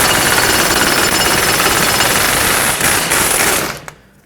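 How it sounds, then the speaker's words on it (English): An impact gun hammers on the 30mm axle nut of a 2003-2008 Toyota Corolla, a loud, dense, continuous rattle lasting nearly four seconds before it cuts off abruptly. "They are pretty tight, so an impact gun is highly recommended."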